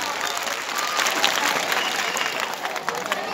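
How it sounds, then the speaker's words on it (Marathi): Audience at a high school event in Pathardi applauding the children, a dense, steady burst of clapping from a crowd filling the whole stretch at close range. "तर तुम्हाला सगळ्यांना विनंती करतो की पुनश्च एकदा यांना टाळ्या वाजवा"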